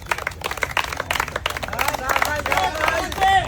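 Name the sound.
audience clapping for a contestant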